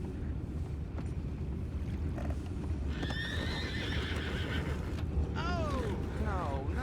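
Horses whinny and hooves clip-clop in Red Dead Redemption 2, with several neighs rising over a steady outdoor ambience and footfalls tapping throughout.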